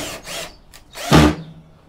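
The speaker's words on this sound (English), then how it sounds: "Put some screws back on so the cover doesn't fall off when I'm carrying it around." A power tool drives screws into the cover of a CRT television. Two brief whirring bursts sound nearby, the second louder and sharper, with no talking.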